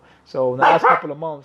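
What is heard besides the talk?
dog barking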